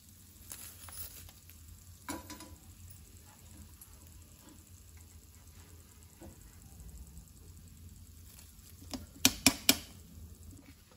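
Curry leaves fry in a pan in a home kitchen, a soft steady sizzle running throughout, with a quick burst of sharp clinks near the end.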